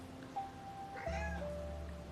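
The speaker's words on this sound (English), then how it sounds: "And that is a cat." A cat gives a single drawn-out meow, fairly quiet and close, with a soft rising-then-falling tone and no talking around it.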